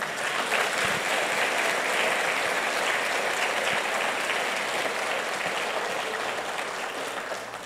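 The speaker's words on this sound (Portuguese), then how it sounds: "Você pode aplaudir o Senhor por isso?" Church congregation applauding, a sustained dense clapping that fills the room steadily and fades slightly at the end.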